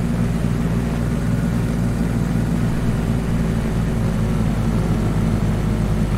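A video game airplane in flight, its engine holding a steady, loud low drone with a rhythmic propeller-like throb and no talk over it.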